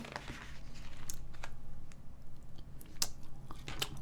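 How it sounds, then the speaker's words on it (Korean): A person eats a GS25 convenience-store pork loin tonkatsu lunchbox with soft, close chewing and a few crisp bites and crinkles, irregular and fairly quiet against low background music. "GS25에 파는 등심 돈가스를 먹어보려고 합니다."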